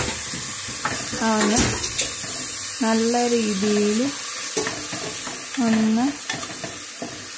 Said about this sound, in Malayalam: ഒരു ജസ്റ്റ് ഒന്ന് റോസ്റ്റ് ചെയ്യുന്ന രീതിയിൽ ഒന്ന് ഇളക്കിയെടുക്കുക